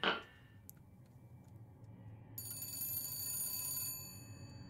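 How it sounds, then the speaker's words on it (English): Telephone ringing in BioShock Infinite, a faint, high, bell-like trill that starts partway through and holds for about a second and a half over a quiet background hum. "Oh, answer the phone."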